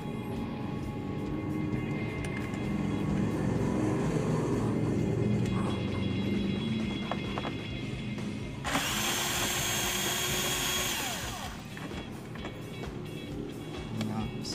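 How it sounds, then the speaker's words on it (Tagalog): Power screwdriver or drill backing out two screws from the speedometer gauge of a Mitsubishi Adventure, a steady mechanical whir running close and loud for most of the stretch, with a brighter burst partway through and faint talk beneath. "Natanggalin natin yung dalawang screw."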